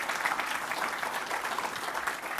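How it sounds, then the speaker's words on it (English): A tech conference audience claps steadily for a developer tools demo, a dense even wash of applause throughout, moderately loud with no talk. "I think that's worth a round of applause."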